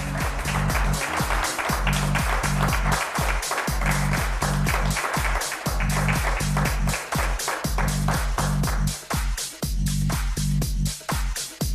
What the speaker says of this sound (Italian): accogliamo con applauso Giulia D'Orlando